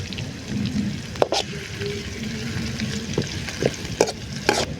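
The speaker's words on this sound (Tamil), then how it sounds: "வதக்கி எடுக்கணும்" Ingredients for village-style pepper chicken sautéed in a pan: steady sizzle with scraping ladle strokes and occasional sharp metal taps against the pan, close by.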